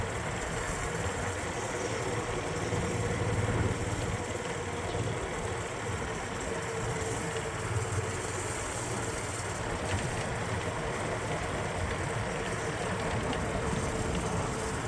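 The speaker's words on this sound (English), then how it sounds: "It still doesn't get enough fuel. You take it burn too hard and it pushes all the gas out of the bowl." A Honda GX390 small engine runs poorly, starved of fuel, a steady mid-level drone with rough mechanical rattle and no speech, holding constant throughout.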